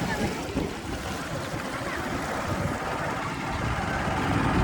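A car creeps slowly through water on a rough forest cart track during the dry season, giving a steady, continuous wash of splashing and rumbling water noise throughout.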